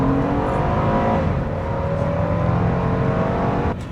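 A Honda VTEC car engine revs hard and loud, its pitch climbing steadily as it accelerates before easing off near the end.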